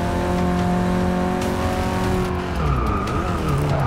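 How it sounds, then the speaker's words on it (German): A Renault 5 Turbo race car in Forza Motorsport 6 skids through a corner, tires squealing steadily over a strained, revving engine, loud and close, with no talk. "Vor allem in der Kurve soll ich nicht so rutschen."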